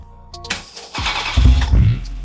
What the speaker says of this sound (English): Who's ready for a cold start?